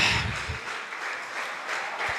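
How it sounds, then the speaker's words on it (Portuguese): A church congregation claps together in a brief burst of applause, a dense patter that rises and falls at moderate distance, with no clear speech. "Aplaude a Deus bem forte."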